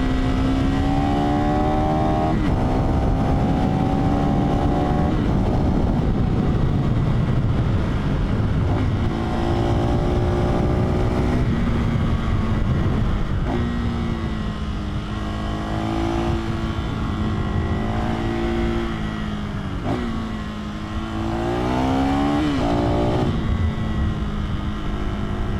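Lightweight adventure motorcycle engine on a test ride, loud and close throughout, with the revs climbing and dropping through the gears in repeated surges and steady wind rush underneath.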